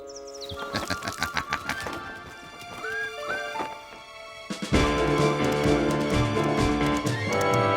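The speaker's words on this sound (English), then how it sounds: "What a magnificent young stallion, isn't he?" A young stallion's clip-clopping hooves lead into a loud, ringing neigh over animated orchestral music, with no talking.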